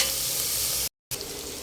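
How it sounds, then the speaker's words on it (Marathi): Onions frying in a pan for hotel-style paneer masala give a loud, steady close sizzle with a brief cut of silence partway through. "आता हे कांदे जे आहेत ते टाकून घेणार आहोत आणि कांदेही छान असं फ्राय करून घेणार आहोत"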